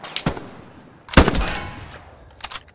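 Gunfire in the World War II shooter Hell Let Loose: a few sharp shots, then a louder burst near the middle that rings out and fades, with more shots at the end.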